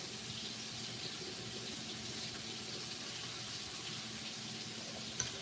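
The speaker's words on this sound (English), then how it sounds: "I got a pot. Put some water in it." Water running from a tap into a cooking pot, a quiet, steady hiss of flow with a faint tonal ring, continuing evenly, with a small knock near the end.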